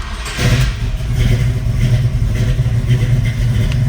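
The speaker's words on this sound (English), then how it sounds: "we're going to go for a nice cold start here" Cold V8 engine of a 1970 Chevrolet Camaro Z/28 RS tribute catching and running, a loud, close, rough rumble holding steady after a brief start.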